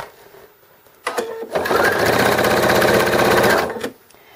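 A sewing machine top stitches a fabric drool pad in one close burst of rapid, even stitching lasting a couple of seconds, after a brief click and start.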